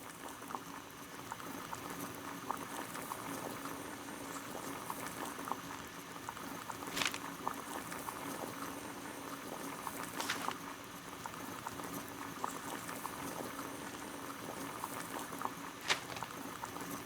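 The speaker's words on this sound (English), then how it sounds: "Boil water in kettle" A kettle of water boils on a gas burner in a Sherlock Holmes video game, with a steady bubbling roil and a few faint clicks and taps along the way.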